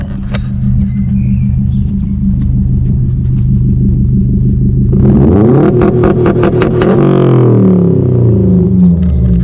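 A loud Subaru WRX STI engine idles with a deep steady rumble, then revs hard under launch control and climbs in pitch before settling into a roaring high-rpm drone.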